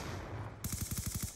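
Automatic gunfire in Black Ops 2 rattles off as a rapid burst of about nine evenly spaced shots, loud and close, after a short stretch of steady game background noise.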